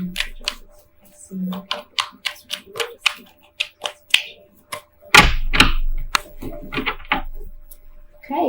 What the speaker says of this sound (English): Sorry, I have a toddler playing with blocks.